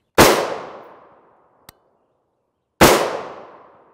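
Two loud, sharp .223 Remington rifle shots firing 55-grain FMJ rounds through a Yankee Hill three-port muzzle brake, each crack ringing out and decaying over about a second, with a small click between them.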